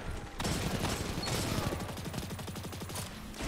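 Gunfire in the video game Destiny 2 rattles as a rapid stream of evenly spaced shots, loud and sustained over a dense background of game noise, with no talking.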